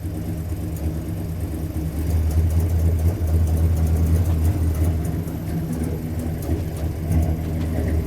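A long-neglected Dodge Monaco runs with its engine droning and swelling loudly up close, wheels spinning on wet ground beneath a steady mechanical whir.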